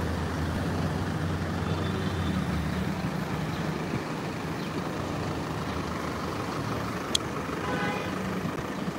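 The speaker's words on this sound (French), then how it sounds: "là trop encombré, il y a trop de trafic là" Heavy road traffic on a congested street: a dense, constant roar of trucks, buses and cars with short horn toots and a brief air-brake hiss, loud and close, with no one talking.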